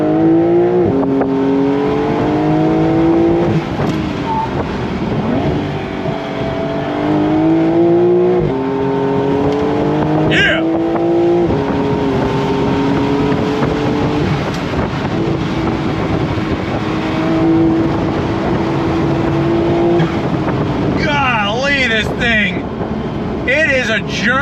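A Porsche 992.1 911 Carrera S accelerating on throttle, its engine note climbing through repeated rising sweeps with gear changes, loud and steady under wind noise and some talk.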